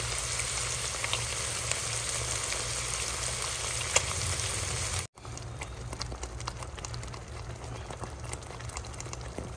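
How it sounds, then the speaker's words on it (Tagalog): Garlic, onion, hotdog and corned beef sautéing in a pan for spaghetti sauce, giving a steady, loud, dense sizzle throughout, briefly cut off once midway, with no talking. "ginigisa ko na po ang ating bawang, ang ating sibuyas, ang ating hotdog, and at ang ating corned beef po"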